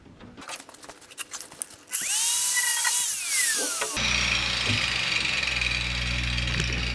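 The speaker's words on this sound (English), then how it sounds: "I'll just trim that little tiny bit off" A power tool trims a small section of a car's sill during bodywork repair; after quiet handling noises, a loud, steady grinding whine starts up close and runs on continuously.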